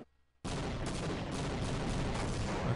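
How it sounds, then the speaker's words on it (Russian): Sustained gunfire aimed at a gate in the 1998 video game Half-Life, bursting in loudly after a short quiet moment and continuing as a dense, unbroken barrage of shots to the end. "надо выстрелить чуть-чуть повыше"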